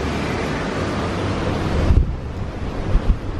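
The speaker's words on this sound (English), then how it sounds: "Definitely windy." Strong wind buffets the microphone on the open deck of the Freedom of the Seas cruise ship, a constant roar with surf-like rushing and a few louder gusts, no talk.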